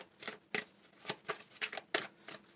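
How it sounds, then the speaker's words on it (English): Tarot deck being shuffled by hand, quick papery riffles and flicks in irregular bursts, close and fairly quiet with no voice over them. "It usually doesn't take this long in a shuffle to get your cards out."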